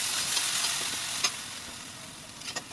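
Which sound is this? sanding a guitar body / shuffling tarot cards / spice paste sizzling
spice paste sizzling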